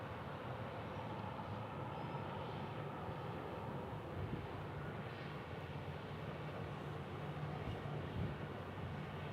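Continuous broadband roar of an airliner departing Kansas City International Airport, heard from a distance as a steady, even rumble, with no voices.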